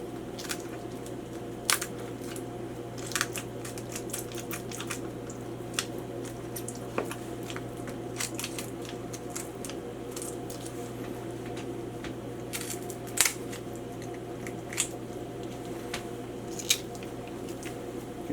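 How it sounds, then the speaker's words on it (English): Pruning shears snip through the wing tip of a raw turkey half, giving a handful of sharp, scattered clicks and crunches over a steady low hum. No one speaks. "I think I'm going to cut this wing tip off."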